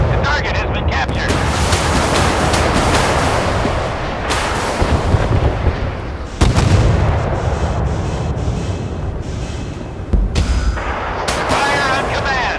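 Naval gunfire from warships in the video game Force of Warships: heavy cannon booms break out several times over a constant rumbling wash of sea and wind, loud and close throughout.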